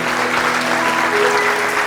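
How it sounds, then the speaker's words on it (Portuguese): Congregation applause during a church service, a loud, dense, steady burst of clapping with a faint sustained organ or keyboard chord underneath. "Dê uma salva de palmas a Ele."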